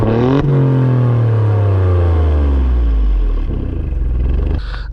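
A 2023 Alfa Romeo Stelvio Quadrifoglio engine revs hard and loud up close, its pitch climbing then sweeping down as it settles into a deep idle rumble with no talk over it.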